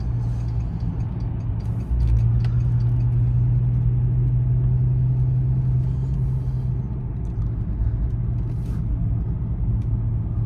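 Inside a Bentley Flying Spur on new tires, a steady low engine and road rumble carries on through the drive, with faint ticking and the drone rising a little after the first couple of seconds.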